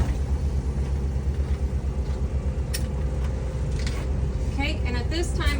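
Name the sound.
bus engine starting and idling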